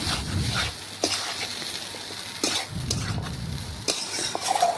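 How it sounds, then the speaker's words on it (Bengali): Mutton and potato pieces being stirred and sautéed in a pot for mutton biryani, with a continuous sizzle and periodic scraping strokes of a ladle against the pot, close and steady, no voices. "এটাও ভালোভাবে মটনের সাথে মিশিয়ে কষিয়ে নেব"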